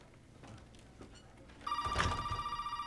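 A telephone rings in the horror game Resident Evil 7. A steady electronic ring kicks in sharply after a stretch of low room ambience and carries on loud and continuous to the end.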